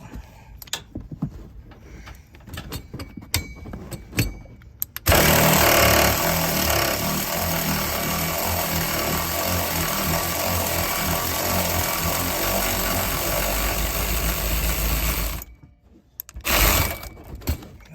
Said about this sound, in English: And I do have an electric ratchet, so we're gonna use that because there's a lot more threads to go.